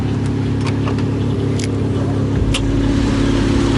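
A mostly stock Toyota 1JZ engine with intercooler and exhaust in a Lexus SC300 idles and revs steadily up close, a low rumbling drone with a few sharp mechanical clicks on top.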